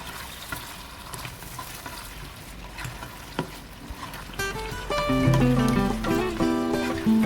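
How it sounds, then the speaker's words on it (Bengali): Chicken and mutton being stir-fried with spices for zamzam biryani, with sizzling and stirring scrapes and a few utensil knocks, then music with sustained tones comes in over it in the second half. "এখন খুব ভালোভাবে চিকেন আর মশলার সাথে কষিয়ে নিতে হবে"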